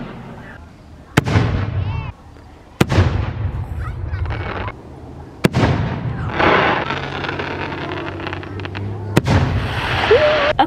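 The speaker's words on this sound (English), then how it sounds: "Fireworks are supposed to like just start happening right now." Fireworks explode near a campsite: several sharp, loud bangs crack out at uneven intervals, each followed by a rumbling, crackling decay, with people talking and reacting between the blasts.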